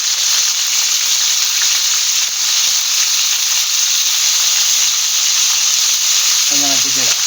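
Fish frying in a wok on a bed of leaves, giving a steady, loud hiss and sizzle throughout with faint crackles, and a short voiced sound near the end.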